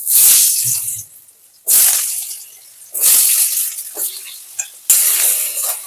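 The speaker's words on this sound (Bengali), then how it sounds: "আলুগুলোকে একটু ভেজে নিই" Diced potatoes fry in hot mustard oil with loud, close bursts of hissing sizzle that flare up and die down every second or so, as if stirred in the pan.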